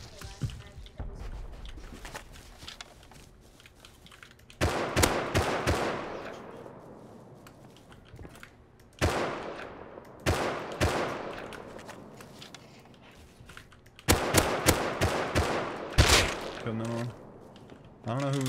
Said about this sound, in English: I don't know who was shooting at me with a silencer.